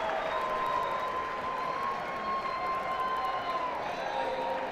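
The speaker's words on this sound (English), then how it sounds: "Crowd appreciates that from Brumbaugh." Crowd at an Arkansas vs UT Arlington college baseball game applauding a play, a steady wash of clapping and murmur with a faint whoop, fairly distant and continuous throughout.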